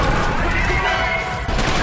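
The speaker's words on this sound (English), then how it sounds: "the gorgeous explosion effect combined with the game's gore system lets you blow up an entire squad of" Grenade explosions tear through a squad of enemies in the video game Trepang2, a loud, dense continuous roar of blasts and crashing debris with no clear gaps.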